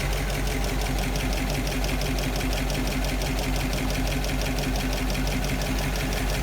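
Soviet GAZ-66 army truck with a V8 engine idling steadily nearby, a dense continuous rumble with rapid regular mechanical pulsing and a faint fan whir, no one talking.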